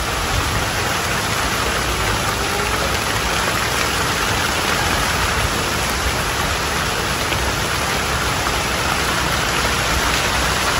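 Steady, heavy rain pours down continuously over a Mekong Delta fishing spot, a dense hiss of drops filling the air with no pauses and no voices.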